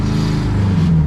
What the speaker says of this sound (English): I quite like the sound of the car right now.